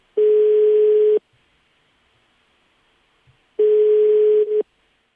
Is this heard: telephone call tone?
yes